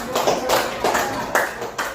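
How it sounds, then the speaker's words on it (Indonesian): Schoolchildren in a class clap for a classmate in a short run of loud, evenly spaced claps, with voices over the clapping. "Tepuk tangan untuk Kansa"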